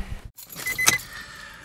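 Keys jangle close as they are pushed into the ignition of a Nissan 350Z that won't start, a short metallic clink and rattle with a sharper jingle at its peak.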